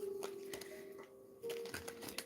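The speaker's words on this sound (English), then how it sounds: "I'm gonna shuffle this deck maybe 3 more times" A tarot deck is shuffled by hand in quick, soft riffling bursts, faint and close, with a low steady hum beneath.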